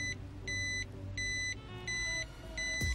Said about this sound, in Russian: и при изменении давления в колесах блок начинает издавать вот такой вот звук тревоги.